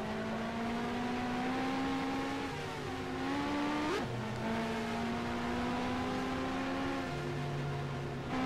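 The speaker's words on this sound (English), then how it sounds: "Big pack of cars right there." A big pack of race cars roars past in the NR2003 racing game at Fontana, with steady high-pitched engine drones that shift in pitch as cars close in and pull away, continuous and fairly loud with no talking.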